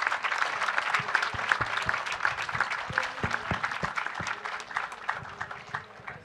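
Audience applause at a book launch event in Jaipur, a sustained round of dense clapping from a seated crowd that holds steady for several seconds and then thins slightly.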